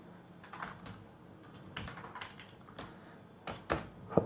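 Quiet keystrokes on a computer keyboard as a terminal command is typed, irregular soft clicks in small clusters with a few louder taps near the end.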